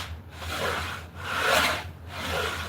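A hand plane shaves 100-year-old wood in three long, close, rasping strokes, each swelling and fading with brief pauses between, and no talking.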